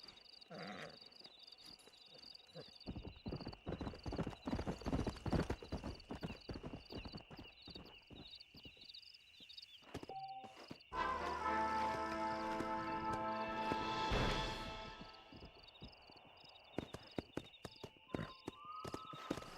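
A stallion's hooves clip-clop steadily in Red Dead Redemption, then a loud neigh and whinny rises mid-clip over faint insect and frog-like ambience, with hoofbeats resuming sparsely afterward.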